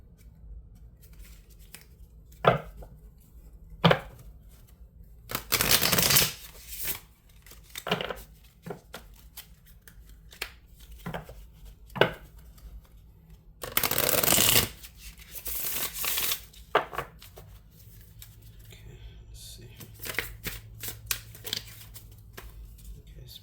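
A deck of cards being shuffled close by, with two long riffling bursts and scattered soft taps and flicks of cards between them.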